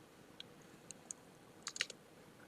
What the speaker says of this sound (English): let's just type in sysprep here